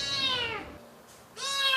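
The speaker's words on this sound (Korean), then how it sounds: "보이지만 닿을 수 없는 거리에 제 새끼를 두고 억장이 무너지는 심정으로 서글픈 울음만 토해내는 어미 고양이" A mother cat, separated from her kitten stuck in a deep drainage channel, lets out two long, plaintive meows close by, with a short silence between them.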